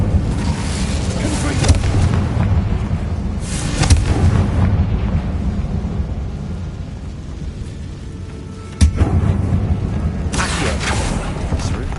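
An Incendio fire spell cast in Hogwarts Legacy, a loud rushing, roaring burst over dense game noise and combat effects, with a sharp crack partway through and a voice speaking amid the clamour.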